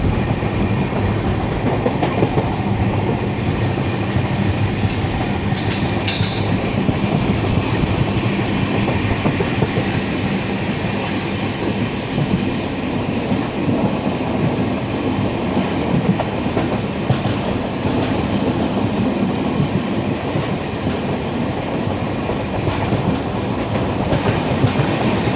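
The 16332 Express rolls along steadily, heard from inside a 2A coach: a constant loud rumble with rhythmic clickety-clack of the wheels over rail joints, continuous throughout with no talking.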